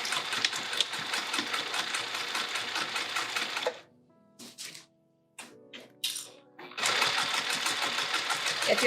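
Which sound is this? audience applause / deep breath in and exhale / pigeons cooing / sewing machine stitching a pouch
sewing machine stitching a pouch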